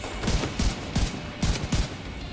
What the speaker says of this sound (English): Shotgun again.